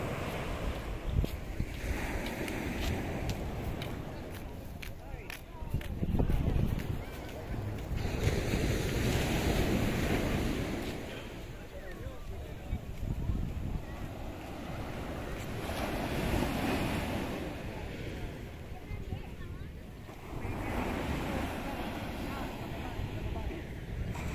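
Ocean waves crash and surge in repeated swells, mixed with gusty wind noise on the microphone.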